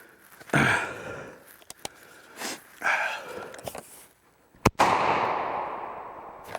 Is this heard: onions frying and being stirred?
no